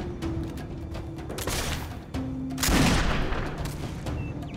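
Gunfire in the video game Risen 2: a couple of loud booming shots burst out over a continuous, rumbling background ambience, with no speech.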